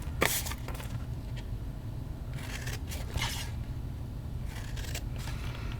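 Scissors cut through a paper box flap for a small cube box, with a few quick snipping bursts over soft rustling and handling of the paper.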